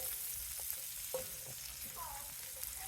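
Butter frying in a pan with spatchcocked chicken makes a steady, moderately loud sizzle with a few soft clinks and scrapes over about three seconds.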